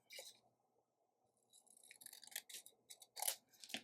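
Scissors snip through paper being cut out for a handmade notebook cover, quiet close crisp cuts starting with a single snip, then a pause and a run of quicker irregular snips.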